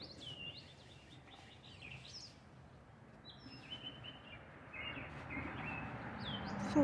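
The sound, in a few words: birds chirping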